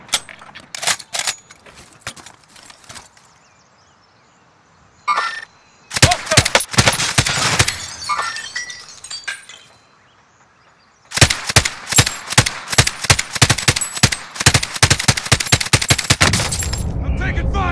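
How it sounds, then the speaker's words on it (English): Video game gunfire in clustered bursts: sharp shots early, a pause, then long stretches of rapid automatic fire, loud and close, with quieter gaps between volleys. "I'm taking fire."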